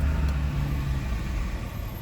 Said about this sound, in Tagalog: mamaya mawawala rin yung mga sasakyan dumadaan